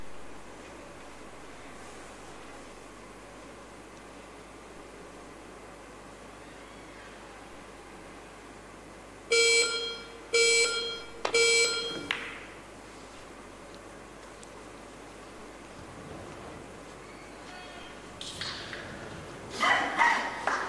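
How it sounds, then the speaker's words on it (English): A shot clock at the 2013 World Pool Masters 9-ball tournament gives three evenly spaced electronic beeps over a quiet hall, followed later by a few soft thumps and faint scattered noises. "the beeps of the shot clock counting down"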